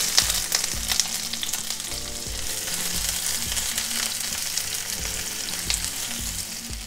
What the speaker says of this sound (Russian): В сковороде я уже разогрела растительное масло и в первую очередь обжарю до прозрачности лук.